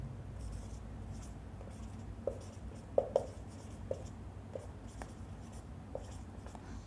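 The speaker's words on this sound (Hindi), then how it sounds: "लिख देता हूँ।" Marker or chalk writing on a board during a civil engineering lesson, with faint scratchy strokes and a few light taps scattered over a low, steady background hum, quiet and close.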